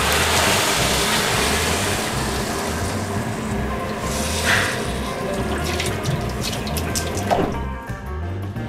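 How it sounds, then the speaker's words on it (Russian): Two liters of hot water pour steadily into the drip tray of a Sikom MK 7.15 panoramic grill oven, a continuous close splashing stream that holds for several seconds with no voices. "И не забываем налить 2 литра горячей воды в поддон."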